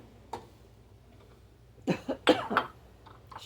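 A person coughs after sniffing cayenne pepper seasoning: a faint throat sound early, then a cluster of three or four harsh, close coughs in quick succession near the end.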